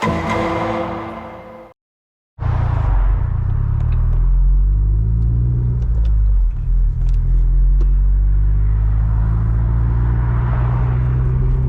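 A Toyota MR2 Turbo engine drones steadily while driving with the roof off, a deep continuous rumble with a brief cut near the start, then sustained engine noise throughout.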